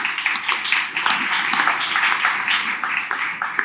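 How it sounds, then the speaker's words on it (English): Audience applause at a panel discussion: a steady, dense wash of clapping from many hands that holds for the whole stretch, with no voices rising above it. "So round of applause for Dr. Ryan Comeau."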